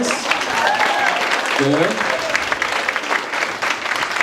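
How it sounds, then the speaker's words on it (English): Audience applause for two student volunteers coming up for an improv game at a Christmas improv night at a Christian high school, loud and steady throughout, with cheers and a brief spoken voice over it. "Give them a round of applause."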